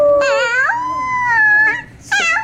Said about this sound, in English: I just have to hear a baby wolf howl